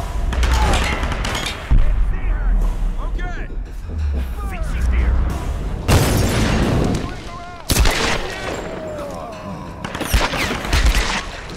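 Gunfire in the video game Tomb Raider Definitive Edition, bursts of shots and heavy booms recurring through the clip under a busy game mix, with speech-like sounds also present.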